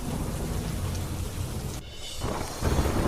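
Heavy rain pours steadily in Banaskantha with thunder rumbling underneath, a dense hiss that briefly dips before surging back louder.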